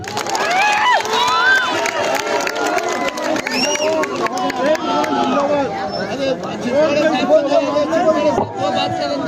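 A crowd at an election campaign rally in Multani Colony, Old City Bidar, shouts and cheers loudly and continuously, with many overlapping voices and excited calls close by throughout.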